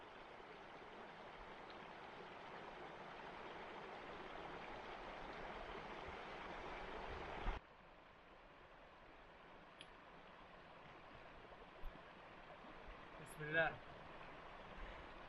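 The Gibbon River rushes steadily past a backcountry hiking crossing in Yellowstone, a constant broadband wash that drops to a softer flow midway, with a few brief knocks and footsteps.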